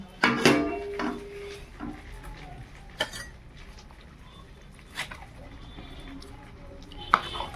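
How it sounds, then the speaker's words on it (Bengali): Hot khichuri being served from a pot at home, with a few sharp ladle or spoon clinks against metal and soft scraping, and a quiet voice in between. "এবার আমি খিচুড়িটা বেড়ে নিচ্ছি"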